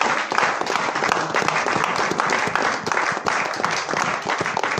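A church congregation applauds steadily and loudly, a dense wash of many hands clapping together without pause for several seconds, with no voices standing out above it.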